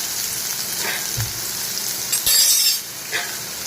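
Sliced onions sauté in hot oil with curry leaves in a pan, a loud continuous sizzle broken by a few stirring scrapes and light clinks of a utensil against the pan, and no voices.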